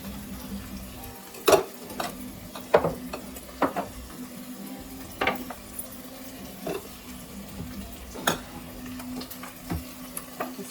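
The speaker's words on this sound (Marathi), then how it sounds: "काश्मीरी तिखट, लाल मसाला, हळद घालून थोडं फ्राय करायचा." Chicken frying with Kashmiri chili, red masala and turmeric, a low steady sizzle broken by scattered clinks and scrapes of stirring in the pan, close, with no talk.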